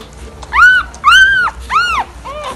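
A mother dog giving birth to a newborn puppy with a severe deformity, no snout or ears, makes four high, rising-and-falling whimpering whines in close succession, loud and close with no talk over them.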